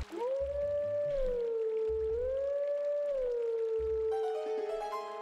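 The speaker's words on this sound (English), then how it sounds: "The wolf howl." A wolf howl in the Twilight Princess video game, a long clear sustained wavering tone that rises and falls through several phrases over a soft low musical backing.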